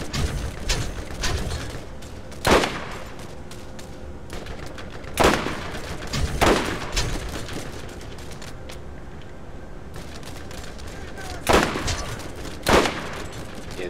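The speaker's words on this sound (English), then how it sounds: "Stop shooting at me." Gunfire in the video game Borderlands: sharp, loud shots crack out at irregular intervals, some in quick pairs, over a constant rumbling background of game noise.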